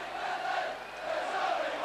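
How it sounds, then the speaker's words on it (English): A rugby league crowd at Leeds versus St Helens in 1990 roars and cheers after a try, a loud, sustained wash of massed voices filling the whole moment. "And the crowd really behind John Bentley now."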